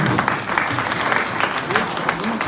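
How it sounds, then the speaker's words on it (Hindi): Audience applause at a school annual day celebration in Kargil, a steady dense wash of clapping from a large crowd throughout, with a voice talking faintly underneath. "तालियों की कमी नहीं रहनी चाहिए प्लीज."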